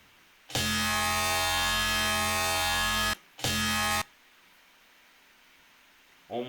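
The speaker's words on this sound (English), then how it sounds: "Almost every dope rhythm track has sustained sounds like this in the back" A sustained synth tone from a free riddim sample pack plays loud and steady for about three seconds, cuts briefly, returns for a short burst, then stops, leaving near silence.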